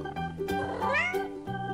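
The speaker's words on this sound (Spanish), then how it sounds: "Este es un gato." A toy cat from a children's farm animal set lets out a single drawn-out meow with a rising, wavering pitch, close and clear, with no talking over it.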